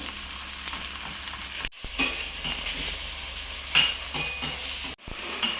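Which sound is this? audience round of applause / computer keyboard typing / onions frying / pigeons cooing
onions frying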